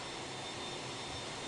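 Airliners taxi at Chicago O'Hare (KORD) in a flight simulator with iniBuilds scenery, a steady, faint, broadband jet engine whine and rush with no other sound.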